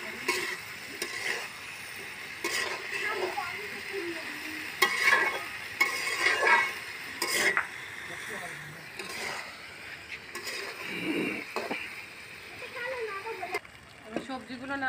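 Mixed vegetables for a traditional khichdi are stirred and sautéed in a pan, with intermittent scraping and soft sizzling bursts under a person talking throughout.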